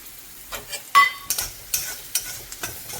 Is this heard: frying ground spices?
yes